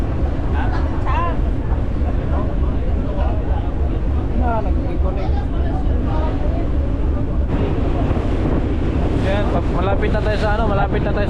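A boat rides a choppy sea in strong wind, with steady broadband rumble and wind buffeting throughout while several people talk loudly nearby.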